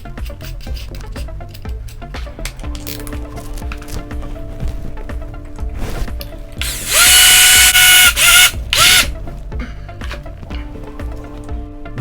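A power drill whirs in short, loud bursts while drilling into a toilet flange during a repair, with mechanical ratcheting and steady motor tones between bursts.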